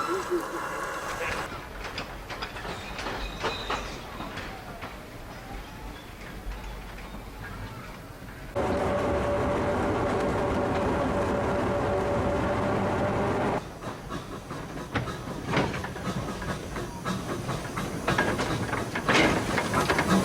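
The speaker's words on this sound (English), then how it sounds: "At the end of the line the locomotive shift to the other end of the carriages." A museum train's locomotive rumbles and clanks steadily while shifting to the other end of the carriages, with a sustained engine drone and a faint whine in the middle stretch, then rhythmic mechanical ticking returns.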